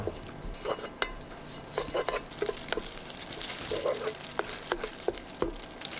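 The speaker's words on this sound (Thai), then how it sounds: "ใส่มันหมูสับลงไป 50 กรัม คั่วไปเรื่อย ๆ จนกว่าจะสุก" Minced pork fat stir-fried over medium-low heat in a pan, with a steady sizzle and repeated spatula scrapes and clinks against the metal, close and fairly loud throughout.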